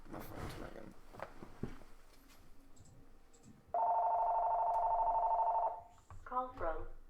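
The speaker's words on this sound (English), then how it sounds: "my phone's ringing" A mobile phone rings with a steady electronic tone lasting about two seconds, then a short melodic chime, between stretches of nearby talk and shuffling during a live day-trading stream.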